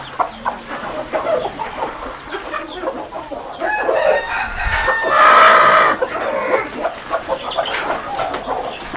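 Hens cluck steadily close by while a rooster crows loudly in the middle, a busy free-range poultry shed of mixed fowl calls.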